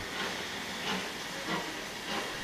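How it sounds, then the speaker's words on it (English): A real steam locomotive hisses continuously and loudly, with the steam surging in a few gentle pulses, heard alone. "The sounds of the real locomotives that you hear in the background are from Mr. No One's channel."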